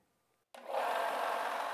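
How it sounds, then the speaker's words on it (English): A belt sander grinds the back bevel off a pair of steel diagonal cutters, starting abruptly after a short silence and then holding a loud, steady, rasping whine close by with no talk. "I'll do that using a belt sander to grind away some of the material from the back of the cutters"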